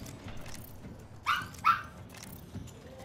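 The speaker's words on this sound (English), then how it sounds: "my fucking dog just barked with the fucking beat of the song" A household dog gives two quick, sharp barks in a row at some distance from the microphone, standing out over a low background of game sound.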